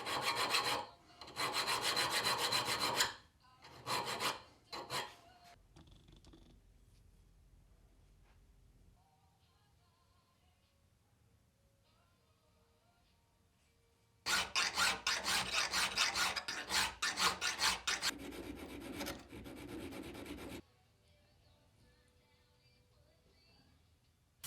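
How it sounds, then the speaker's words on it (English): Bursts of rasping hand sanding on a stainless steel and purpleheart wood miter plane lever cap, several short back-and-forth strokes, then a pause and a longer steady run of scraping strokes, close up. "And so with some hand sanding, those are all kind of blended out"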